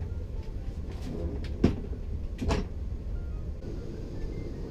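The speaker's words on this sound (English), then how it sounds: "Now I want some extra privacy, so I just close these sliding doors." Sliding privacy doors of a first class apartment aboard an Etihad Airbus A380 are pulled shut with a couple of soft thuds and brief sliding sounds over the steady low cabin hum.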